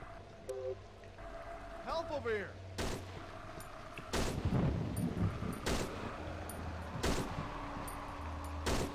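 Gunfire in the horror game Cry of Fear: several sharp shots, some in quick bursts, fired among game noises and echoing ambience, with people talking over the action.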